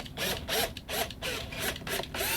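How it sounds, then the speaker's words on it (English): A drill boring a 1/16 inch hole through aluminum over wood, heard as a series of short repeated whirring and scraping bursts with brief pauses between them, close and fairly quiet. "I'm going to go through and drill a 1/16 inch hole at every intersection"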